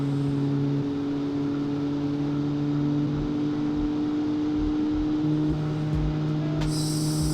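A 1956 Gasmea car in the Automation driving game revs its engine steadily and loudly throughout, the pitch holding then shifting with gear and load, with a brief sharp high click near the end.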